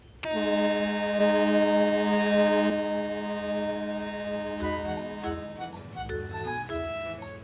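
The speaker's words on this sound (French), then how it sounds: "il laissa même Caillou faire retentir la sirène" A ferry's horn sounds as the boat approaches shore: one long, loud, steady tonal blast that cuts off after a few seconds, followed by quieter rumbling and a few lighter tones.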